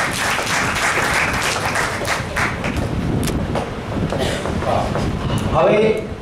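An audience applauds at a school annual day function, with dense clapping and a crowd roar holding for several seconds, close and loud.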